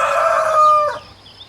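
A farm rooster crows once, loud and close, in a single drawn-out call that fades out after about a second.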